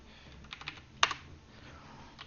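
Keys clatter on a computer keyboard while Python code is entered, a few soft scattered taps building to one sharp burst of rapid keystrokes near the middle, close and clear with no talking.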